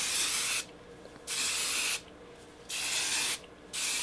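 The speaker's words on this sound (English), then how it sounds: "And I'm gonna add this heat protectant. This is the IGK Good Behavior Spirulina Protein Smoothing Spray." Close, loud hisses from an IGK Good Behavior Spirulina Protein Smoothing Spray heat protectant being sprayed on hair, three long bursts with short pauses between them.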